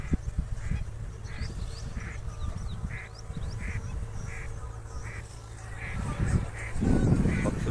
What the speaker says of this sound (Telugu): చెరువులో పక్షులు, అడవి బాతులు సందడి చేస్తున్నాయి.